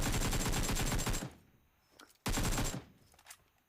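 Two rapid bursts of automatic rifle fire from an M416 in PUBG Mobile, each lasting about a second, loud and close, with a short quiet gap between them.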